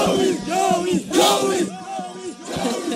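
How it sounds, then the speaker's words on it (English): A crowd in Kisumu, Kenya, celebrates an election annulment with loud, massed shouting and rising cheers that swell and fall in repeated surges, close and continuous. "That crowd has managed to find him out, pick him out where he is."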